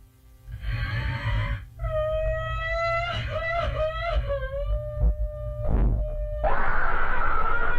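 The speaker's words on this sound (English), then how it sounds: "That one, that scream that you hear in every fucking creepypasta." A creepypasta horror scream rises after a brief noisy burst, holding a wavering, moaning pitch for several seconds over a heavy low rumble, then gives way to a loud, steady hiss.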